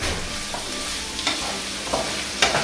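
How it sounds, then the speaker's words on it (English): Salt cod and onion sizzle softly in a pan over low heat while being stirred, a continuous quiet frying hiss with a few light scraping clicks of the utensil, no voices. "Cut in and mix it in with the onion."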